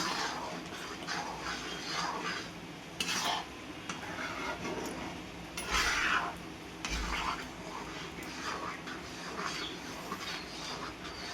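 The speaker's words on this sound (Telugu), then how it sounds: "ఒకసారి మొత్తం మంచిగా కలుపుకుందాము" Paneer butter masala curry being stirred in a pot, with a spoon scraping and clinking against the metal in a steady, close mixing rhythm over a soft background hiss.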